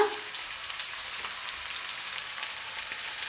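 Long-sliced onions frying in a pan for a Kerala-style egg roast give a steady, close hiss and sizzle with faint stirring.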